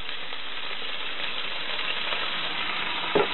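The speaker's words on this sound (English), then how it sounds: "And there goes the sausages" Sausages fry in a pan aboard a sailing boat with a steady, close hiss of sizzling fat and a brief clatter near the end.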